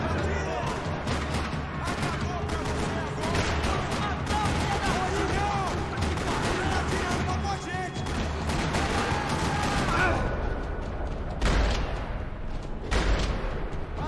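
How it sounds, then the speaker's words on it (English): Dense, continuous bursts of video game gunfire in a parking lot crackle and pop throughout, with rapid overlapping shots and a heavier blast near the end, loud and chaotic. "Another parking lot rattling with gunfire."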